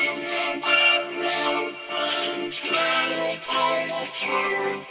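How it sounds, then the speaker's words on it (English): Vocals in a pop song production run through a vocal synth, a series of buzzy, harmonically rich sung phrases with a robotic, tonal quality, heard alone and close. "it's on a vocal synth, so it sounds like this"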